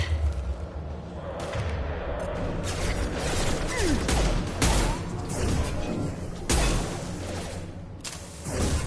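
Sustained gunfire in Mass Effect Legendary Edition during a fight against a mech, with loud rapid shots and sharp impacts cracking repeatedly over a continuous battle din for several seconds.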